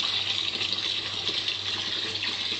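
Sandy water runs from a household tap into a sink, a steady, even hiss of flowing water heard close by with no voices.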